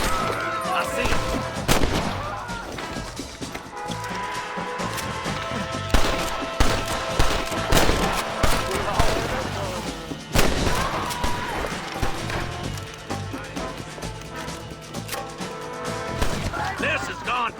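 A Red Dead Redemption shootout keeps up a steady stream of gunfire, with many loud cracks and bursts overlapping, while voices shout and game music plays over it.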